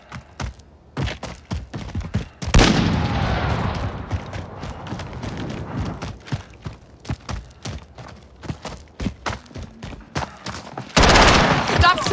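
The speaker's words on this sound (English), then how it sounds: "Stop shooting at me!" Gunfire in a Call of Duty Modern Warfare team deathmatch: rapid bursts of close, punchy shots over rumbling explosions, with loud dense stretches at the start and end and sparser single cracks between.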